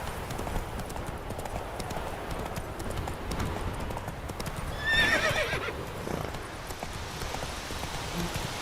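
Roach, the horse in The Witcher 3, clip-clops along in a steady close hoofbeat rhythm over soft ambient rain, and partway through gives a short, clear neigh.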